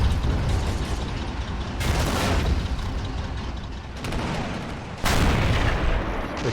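In a video game, a British 17 pounder anti-tank gun fires in several heavy booming reports with sharp onsets, about three shots spaced a couple of seconds apart, loud and close against a rumbling battle background.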